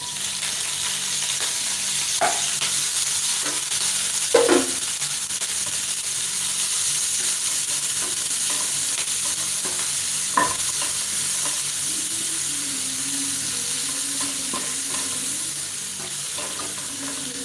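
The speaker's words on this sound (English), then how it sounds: "That's when we will be adding our grated carrots together with our chopped green onions." Grated carrots and chopped green onions fry in a pan with steady, close sizzling, broken by a few sharp clicks of stirring and a faint low rumble near the end; no one speaks.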